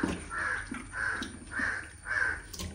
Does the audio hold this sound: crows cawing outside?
yes